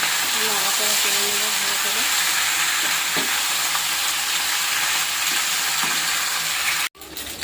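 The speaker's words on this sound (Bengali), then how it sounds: "তো এটাতে পাস্তাটা ভাজা ভাজা হয়ে গেছে" Pasta frying in a pan with onion, soy sauce and tomato sauce, a steady loud sizzle with stirring scrapes throughout, cutting off abruptly near the end.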